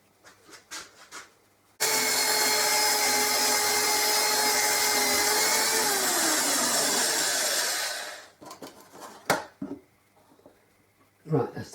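A power tool bores into the wooden body of a Guyatone LG50 guitar to cut a jack socket cavity, a steady loud whirring drone lasting about six seconds, framed by quieter handling noises and brief speech before and after.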